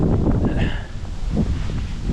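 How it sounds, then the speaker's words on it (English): Strong wind gusts buffet the microphone at a cold-weather campsite, a steady low rumble with loud surging rushes close to the mic and no talking. "it's still gonna be very windy, aka dangerous."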